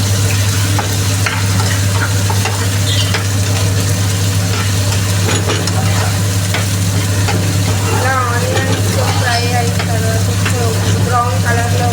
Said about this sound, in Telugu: చాప్ చేసిన ఆనియన్స్ ఇందులో వేసుకోవాలి.